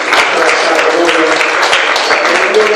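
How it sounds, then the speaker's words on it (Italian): Loud, close applause from an audience at an Italian presentation honoring a fellow townsman, a dense continuous patter of clapping with some voices mixed in. "vorrei fare un applauso proprio a questo mio compaesano"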